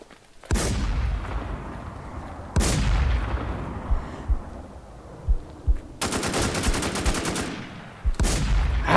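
Gunfire in the zombie survival game Infestation The New Z: several loud, sharp single shots spaced a couple of seconds apart, with a rapid automatic burst near the end and softer thuds between, no voices.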